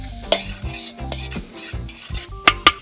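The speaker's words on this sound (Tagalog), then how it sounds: "maggisa na tayo ng bawang at sibuyas para doon sa sabaw natin" Garlic and onion sizzle and hiss in a pan while being stirred, with scraping strokes and a couple of sharp utensil clinks near the end, close and moderately loud.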